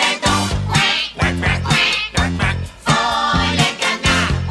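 Cartoon ducks in a lively French farmyard children's song, quacking in bouncy rhythmic bursts on the beat, loud and close over cheerful music with no talking.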